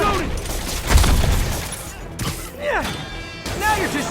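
Gunfire and impacts in the video game Spider-Man Remastered, a dense, loud barrage of shots, crashes and whooshes blending into a chaotic action mix, with shouted voices mixed in.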